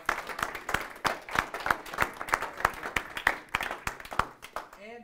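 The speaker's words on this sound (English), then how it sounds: "Give yourselves a big round of applause." A seminar audience gives a round of applause, with many distinct sharp claps in a quick, uneven rhythm, fairly close and moderately loud; a voice speaks briefly at the end.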